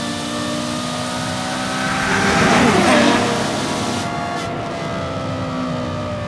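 A Porsche Carrera GT engine revs up to a loud peak and then settles back, a steady mechanical roar throughout.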